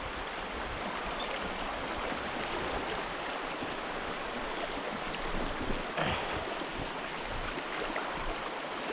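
River water rushes steadily around a Suzuki motorcycle stuck midstream in the Victorian High Country, a constant close wash with no talk and a brief splash near the end.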